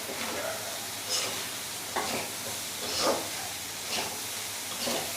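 Potatoes fry in a pan in a home kitchen, giving a steady sizzle and hiss broken by a few brief stirring scrapes, close and moderately quiet, with no talk.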